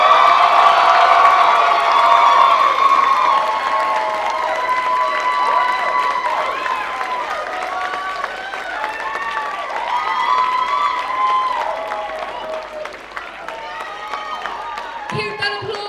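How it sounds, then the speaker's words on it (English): Loud crowd applause with cheers and whoops for a burlesque pageant runner-up, sustained clapping under bright shouting voices that ease off toward the end. "Keep that applause going."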